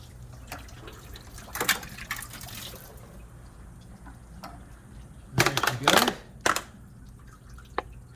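AMSOIL coolant poured into the engine block of a 1959 Cadillac, sounding as short bursts of gurgling liquid, the heaviest splashing near the middle and a few lighter trickles and drips between, close by with no talk.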